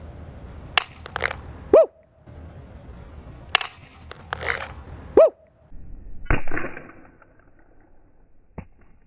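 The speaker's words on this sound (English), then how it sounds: "iPhone 12, 6 foot drop on its backside" An iPhone 12 dropped six feet onto its back, with several sharp impact clatters against a hard surface spread over the span, including two pronounced thuds followed by rattling and handling noise.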